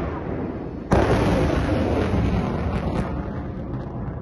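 An S-300V surface-to-air missile launches with a sudden loud blast that becomes a sustained roaring rush, slowly fading over several seconds.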